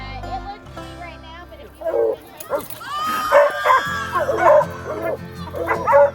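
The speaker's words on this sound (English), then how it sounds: "to actually see a dog baying and see one barking at a coon" A coonhound bays and barks with drawn-out, wavering howls and yips, loud and close, while people talk over it.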